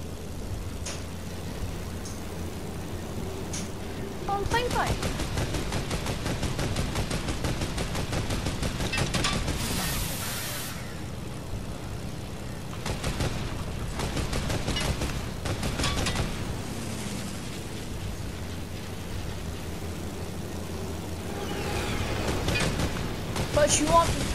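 Dense gunfire and explosions in a Winterfest 2020 video game plane fight, with long rapid machine-gun bursts, heavy booming blasts and engine roar, loud and close, under occasional excited talk.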